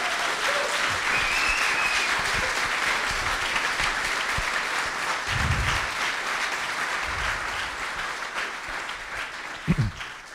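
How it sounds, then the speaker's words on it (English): A lecture audience at a university architecture faculty applauds steadily, a moderately distant, even wash of clapping that holds for the whole stretch with a few louder claps near the end. "I would like to have a big applause for the people that organized this"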